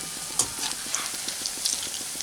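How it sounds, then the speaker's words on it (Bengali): Raw banana pakoras fry in hot oil in a pan with a soft, steady sizzle, while light taps and clicks come at a fairly regular pace as the pieces are flipped. The whole sound stays quiet, with no talk. "এখন আমি এই পকোড়াগুলোকে উল্টিয়ে দিচ্ছি।"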